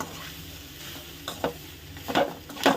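Grated coconut frying in a pan for onion chutney, with a low steady sizzle broken by several louder stirring scrapes toward the end.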